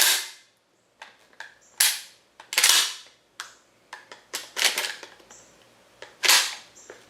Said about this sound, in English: Pull the trigger, slide the gun, and then you'll hear it reset.